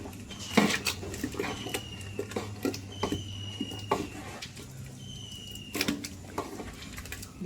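A spoon stirs rice with coconut milk in a pot, giving repeated clinks and scrapes against the metal at a steady, close pace with no talk.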